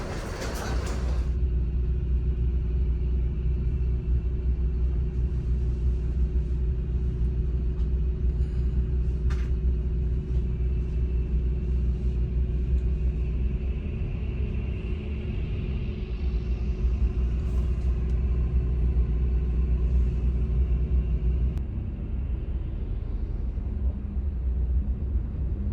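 Steady low engine rumble and road drone inside a moving Pandawa 87 Dream Coach single-glass bus, constant and enveloping, with faint rattles and a brief whine riding over it partway through.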